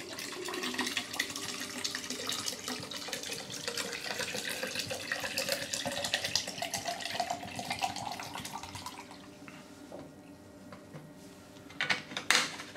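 Preservation liquid poured into the base of a HiFlo reverse osmosis filter housing, a steady splashing, gurgling stream for about nine seconds that tapers off, followed by a few clunks and handling noises close by.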